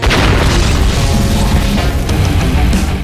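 Explosion from an action film as a place is blown up: a loud, sustained booming blast with deep rumble and crashing debris filling the whole three seconds, no speech.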